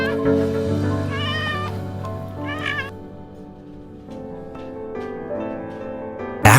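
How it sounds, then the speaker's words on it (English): A cat meows repeatedly in distress, with several drawn-out, wavering cries spread across the stretch, fairly close and loud, with no talk over them. "Just by the sound of this cat's meow, you can instantly tell that it's in serious danger"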